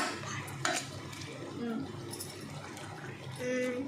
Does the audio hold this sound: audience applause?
no